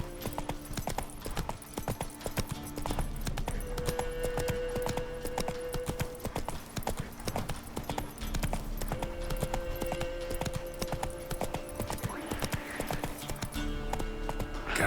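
Roach the horse galloping in The Witcher 3: Wild Hunt, rapid rhythmic clip-clopping hooves running continuously under game music and ambient sounds, with a faint neigh.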